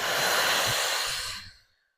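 A long, forceful breath exhale during a Pilates mat exercise, a steady airy rush lasting over a second before tapering off into silence, close and fairly loud.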